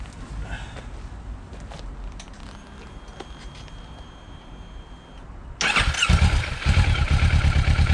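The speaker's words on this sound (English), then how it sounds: "I've noticed there's been a bit of a metallic-y rattle on D-cell, on overrun." A motorcycle idles with a low steady engine note, then revs sharply and loudly near the end, bringing a metallic exhaust rattle on overrun, close and without speech.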